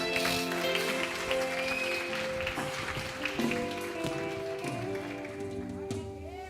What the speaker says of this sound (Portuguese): Aplauda ao Senhor aí, bem forte.